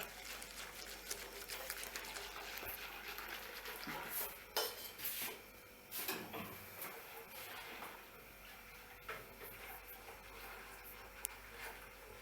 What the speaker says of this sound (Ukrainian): будемо заварювати, помішуючи весь час, щоб не підгорали, до густоти.